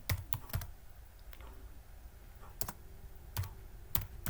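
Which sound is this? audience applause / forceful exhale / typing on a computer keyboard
typing on a computer keyboard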